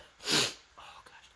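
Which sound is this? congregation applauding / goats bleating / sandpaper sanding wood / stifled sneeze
stifled sneeze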